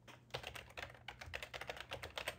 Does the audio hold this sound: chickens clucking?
no